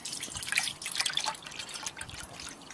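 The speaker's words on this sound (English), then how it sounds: "And I'm going to put the water into the mug." Water poured into a large tin mug beside a mug stove, a soft splashing trickle with dripping, close and fairly quiet, alone with no talk.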